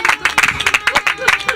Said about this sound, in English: Let's give this person a round of applause